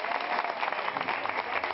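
Audience applause at the 2009 Miss Beleza Mineira pageant, dense and sustained clapping from a crowd, steady and fairly loud throughout.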